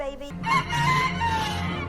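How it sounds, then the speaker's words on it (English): A rooster crows once, loud and close, in a sustained cock-a-doodle-doo lasting nearly two seconds, from the Star Wars series The Book of Boba Fett. "Wow, a Tatooine chicken."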